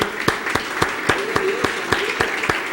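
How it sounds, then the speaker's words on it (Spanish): A church congregation claps in a steady, even rhythm, sharp regular beats close by, with a little voice mixed in. "Le damos un fuerte aplauso al Señor Jesucristo"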